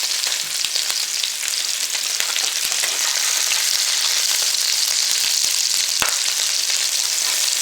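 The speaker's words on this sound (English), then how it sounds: "Watch that oil too, it's spitty, spitty." Meatballs frying in hot, spitting oil, a loud continuous crackling sizzle with sharp pops scattered throughout, close up and with no talking.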